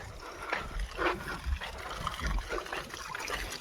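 Water pours into a backpack sprayer pump in a farm field, a steady trickling splash with small surges and no talking.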